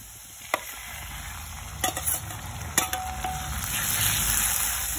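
Onions frying in oil in a pan for a Jharkhandi arbi-leaf curry, a steady soft sizzle with a few sharp metallic clinks of a spoon stirring against the pan.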